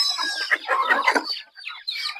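Native Mettavatalu breed chickens on a farm cluck and chatter in a close, busy run of calls, with a brief pause before the clucking resumes.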